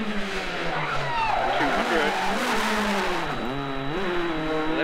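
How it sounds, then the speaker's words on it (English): A small rally car's engine screams at full speed on a forest stage, rising and falling with gear changes, heard from onboard under a co-driver's pace-note calls. "How good does this little car sound in full flight?"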